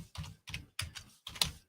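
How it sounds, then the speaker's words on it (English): Bursts of typing on a computer keyboard, four quick clusters of key clicks with short pauses between them, close and fairly quiet, with no talking. "Excuse my typing."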